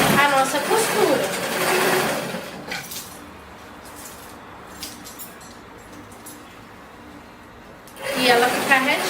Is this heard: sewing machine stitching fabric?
yes